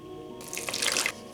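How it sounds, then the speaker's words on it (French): Lukewarm water is poured into a bowl to dissolve baker's yeast for hand-kneaded pizza dough, a short splashing pour of about a second rising over quiet room tone. "Je vais verser la moitié d'eau qu'on aura besoin."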